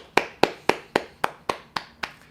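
One listener claps along to a song, eight crisp, evenly spaced hand claps at a steady beat, close and alone with no talking.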